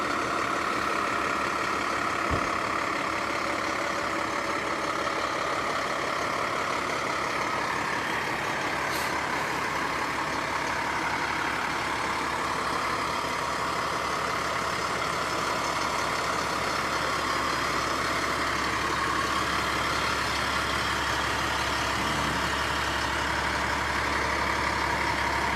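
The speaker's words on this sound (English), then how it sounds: "Now the truck's on" A North Carolina fire truck sits parked with its diesel engine idling, a loud, steady low rumble close by that holds throughout, with a faint hiss of air brakes partway through.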